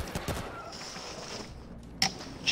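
Gunfire in World War Z, a video game, comes as a few scattered sharp shots at moderate distance, with one louder crack near the end over a rumbling background.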